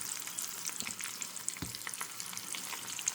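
Asafoetida sizzling in hot oil as a tempering for sambar, a steady close crackle and hiss with small pops throughout, no voices.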